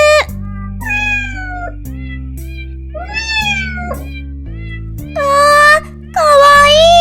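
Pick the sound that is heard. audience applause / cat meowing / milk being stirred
cat meowing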